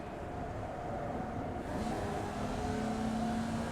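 A race car engine in iRacing drones near a hairpin, its pitch shifting partway through as the gear changes, then holding a steady hum with no voices.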